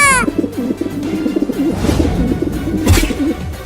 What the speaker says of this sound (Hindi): अरे कबूतर की आवाज आ रही है इस भगोने के अंदर से।